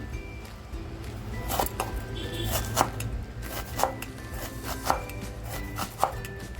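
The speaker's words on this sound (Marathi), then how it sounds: "कांदा बघा मी अगदी बारीक कापून घेते" An onion is finely chopped with a knife on a board, giving crisp, irregularly spaced cutting taps over a quiet background hum.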